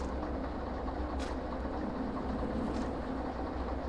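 In the railway game Derail Valley, a tram rolls slowly along rails with a steady, even rumble and faint rail noise, heard alone throughout.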